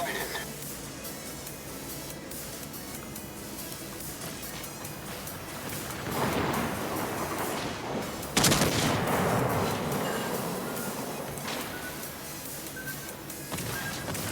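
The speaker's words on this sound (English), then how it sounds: "All stations, concentrate fire on the target." Naval ship guns firing at an enemy destroyer in a video game, with a steady roar of cannon fire broken by louder blasts near the middle and later on.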